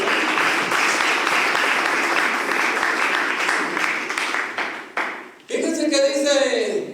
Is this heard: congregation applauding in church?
yes